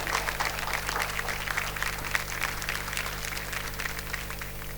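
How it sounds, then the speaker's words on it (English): Audience applause at a grand book launch event welcoming an actor, a steady wash of many hands clapping over a low hum, continuous across the whole stretch. "Please welcome her with the warmest of applause."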